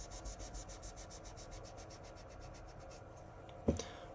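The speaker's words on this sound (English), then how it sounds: "Let's go ahead and erase this" A written note being erased from a board, heard as a quick, rhythmic series of rubbing strokes for about three seconds, followed by a single sharp knock.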